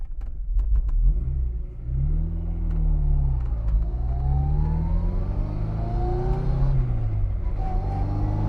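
A 1963 Austin Mini Cooper with a close-ratio gearbox accelerates hard, its engine rumbling loud and near as the revs climb and fall through several rising sweeps, with no talk over it.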